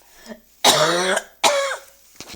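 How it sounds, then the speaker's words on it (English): Two harsh, loud coughs close up, each about half a second, followed by a faint throat sound. "And so I'm going to cough again."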